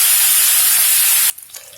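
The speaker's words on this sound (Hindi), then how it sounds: "इसे हल्के हाथों से ही अलग पलट करके भूनिएगा" Paneer frying in a pan, a steady loud hiss and sizzle that cuts off abruptly near the end, leaving quieter faint clatter.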